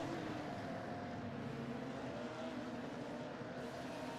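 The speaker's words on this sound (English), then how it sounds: "the car with famous sounds everybody knows when you hear a Porsche on track" Porsche GT3 Cup race car at speed on the Zandvoort circuit, a steady droning engine note heard from a distance with a broad rumbling wash and no clear passing peak.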